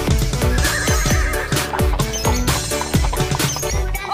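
A horse whinnies repeatedly in loud, descending neighs, one after another, close and clear with busy background noise.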